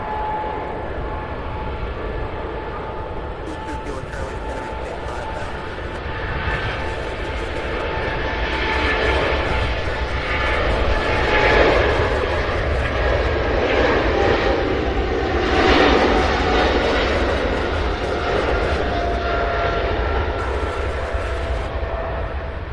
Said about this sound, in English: Beautiful takeoff.